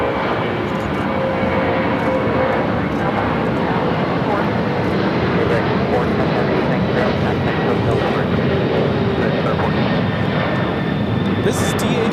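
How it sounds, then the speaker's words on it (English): A Boeing 767-300 freighter jet takes off at LAX, a steady broad engine roar holding loud throughout, with radio or talk faintly mixed in. "This is DHL 410, taking off to Cincinnati on the 767-300 freighter."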